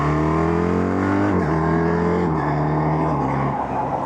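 BMW R1300RT touring motorcycle, 2025 model, pulling hard in second gear, a loud steady engine drone rising in pitch with a brief dip at a shift point, heard close from the rider's seat with wind noise.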